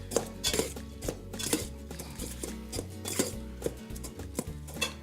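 Salad tossed with dressing in a bowl using tongs makes a run of close, rhythmic clacks and scrapes against the bowl, with soft wet rustling between the strikes.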